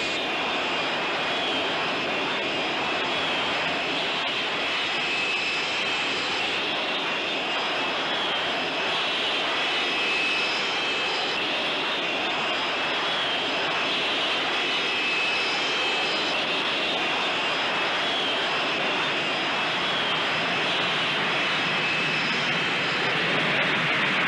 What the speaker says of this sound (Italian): The French team are about to take off now in their Fuga Majesties.